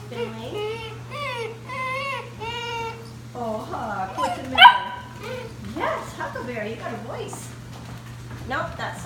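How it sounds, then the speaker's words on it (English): Eight-week-old basset hound puppies barking, yelping and whining in short, close bursts, with people talking over and between the calls. "the one that was just barking was Remington"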